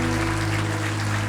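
A congregation in church applauds, a dense, steady wash of clapping that fills the short stretch, with a low hum beneath it and no voices.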